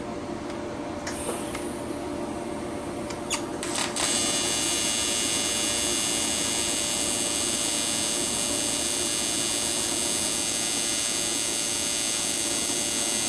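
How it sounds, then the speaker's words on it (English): An aluminum turbo boost inlet tube is being welded, with a steady electric buzzing hum that starts after a few seconds of faint clicks and continues loud and unbroken to the end. "I'm gonna put a little dab of weld right here."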